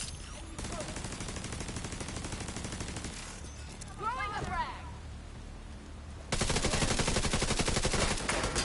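Video game gunfire in The Division 2, rapid dense automatic shots sustained through most of the stretch and loudest toward the end, with a whooshing effect mid-way and a voice talking underneath.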